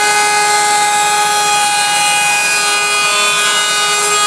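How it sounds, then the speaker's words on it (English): A router fitted with a roundover bit cuts along wood edges with a loud, steady, high whine and no breaks, heard up close. "what I've done now is replace the bullnose bit with a roundover bit"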